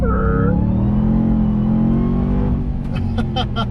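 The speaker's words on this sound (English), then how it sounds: "It's just burning off the inside tires." A RAM TRX truck revs hard in snow, its engine roaring loud and steady while the inside tires spin, with a rising whine at the start and rapid clicking toward the end.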